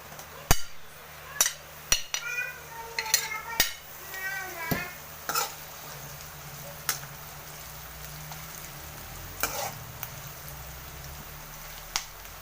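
Ginger and onions frying in a pan while being stirred, heard as a series of sharp utensil clicks and scrapes against the pan over a faint sizzle, with no talking.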